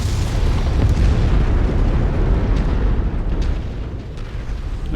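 A mech target blows up in a BattleTech-style combat game, giving a loud, sustained rumbling explosion with dense low-end roar that fades slightly over several seconds and has no talk over it.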